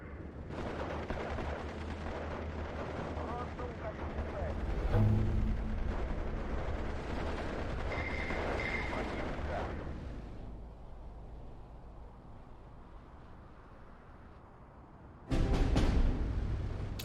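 Artillery fire and bombing in the WW2 strategy game Steel Division 2 form a dense, continuous roar of booming blasts and crackling gunfire. The din eases for a few seconds, then heavy explosions surge again near the end.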